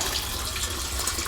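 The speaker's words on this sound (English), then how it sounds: "Now you can see at the moment we've got the hose pipe running into there" A hose pipe runs water into a water butt on an allotment plot, giving a steady, continuous rushing splash at close range with no pauses, alone and without talk.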